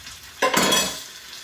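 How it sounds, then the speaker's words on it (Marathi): A spoon scrapes and stirs a fresh pigeon pea lentil curry from the bottom of the pot in one short burst of about half a second, close and moderately loud, then settles into a quiet simmer. "एक वेळ चमच्याने असं खालून मिक्स करून घ्यायचं"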